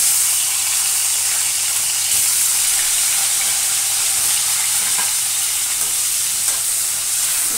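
Dried chillies, coriander seeds and cumin frying in a pan, a steady bright sizzle with light stirring throughout, close and even with no voices.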